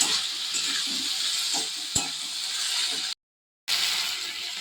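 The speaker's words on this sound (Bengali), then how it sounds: "এইভাবে কষাতে থাকলে যখন তেল ছেড়ে দেবে তখন কষানো হয়ে যাবে" Curry masala stir-fried in oil in a pan, giving a continuous sizzle with scraping stirs and one sharp clink, close and fairly loud, broken by a brief silent gap near the end, with no talking.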